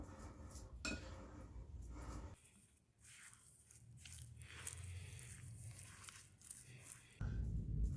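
Pork slices being tossed with sprinkled corn flour in a bowl for a pork and apple stir-fry, giving soft repeated clinks and scrapes of utensils against the dish at close range, with busier stretches at the start and end.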